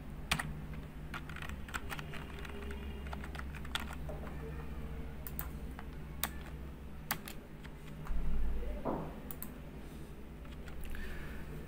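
Someone types HTML table tag code on a computer keyboard, with steady close key clacks in irregular bursts and a few sharper keystrokes over a low background hum.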